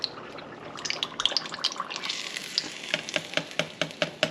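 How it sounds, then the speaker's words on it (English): Homemade cheese curds deep frying in hot oil, a steady close sizzle with crackling pops and rhythmic spoon scrapes and taps growing more regular toward the end. "I love deep frying things."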